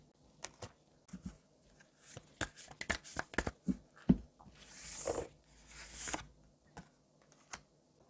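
Tarot cards being shuffled and handled, a run of soft papery riffles and taps at close range, then a couple of louder brushing swishes toward the end, with no talking.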